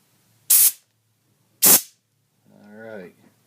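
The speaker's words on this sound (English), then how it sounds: "again, more compressed air." Two short, sharp blasts of compressed air blow out a freshly tapped hole in a fabricated metal neck ball cup, each a loud hiss about half a second long, followed by a brief spoken voice.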